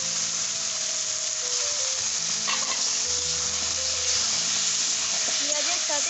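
Small chicken pieces lightly frying with onion in a kadai, a dense continuous sizzle with occasional stirring scrapes, close and even, over a faint steady background hum.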